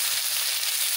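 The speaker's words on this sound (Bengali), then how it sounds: "ওই তেলে আমি সবজিটা ভাজা করে দিচ্ছি" Vegetables fry in hot oil in a wok over a strong flame, giving a steady, loud, close sizzle with a bright hiss that holds evenly throughout.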